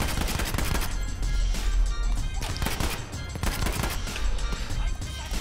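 MAS 44 rifle fire in Battlefield 5, a loud run of sharp, closely spaced shots in uneven bursts with brief gaps, close and continuous.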